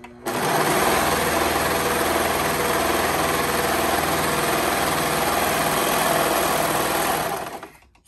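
A Brother 1034D serger stitches and trims fabric at a steady, continuous high-speed whir, loud and close, running unbroken for about seven seconds before winding down.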